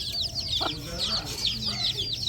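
Chickens clucking close by in a rural Bangladeshi yard while pecking at crushed biscuit crumbs, repeated short clucks with a soft background hum.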